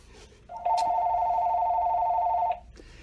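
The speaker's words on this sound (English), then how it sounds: "I'll let the phone ring." A telephone rings in a shoe repair shop, one sustained electronic trill lasting about two seconds, close and clear over quiet room noise.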